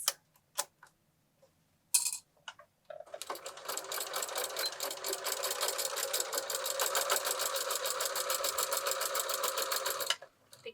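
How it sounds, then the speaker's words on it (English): A sewing machine stitches a basting seam through thick layers of an insulated reusable bag, running in a steady fast rhythmic whir for about seven seconds after a few short clicks and taps. "Now we're going to go over to the machine and we're going to baste this in place."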